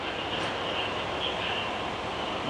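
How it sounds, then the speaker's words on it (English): A local train idles at a station in Shikoku, Japan, giving a steady close mechanical hum and rumble throughout with a faint high whine, no speech. "So here's the train I got off on."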